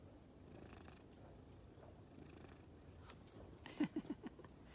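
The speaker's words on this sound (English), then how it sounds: "And here's our kitty, kitty, kitty, kitty, kitty." A pet cat purring softly and steadily up close, a low continuous rumble in a quiet room, ending with a few brief louder sounds.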